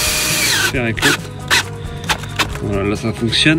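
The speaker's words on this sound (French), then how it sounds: "ce que je vous propose c'est de visser une vis directement" A power drill drives a screw into exotic ipé hardwood decking laid on pedestals, sounding as a few short whirring bursts close by while someone talks over it.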